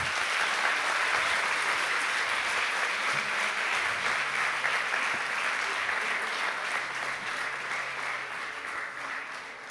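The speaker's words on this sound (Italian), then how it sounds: "E un altro applauso" A large crowd applauds steadily and continuously, a dense wash of clapping that slowly tapers off toward the end.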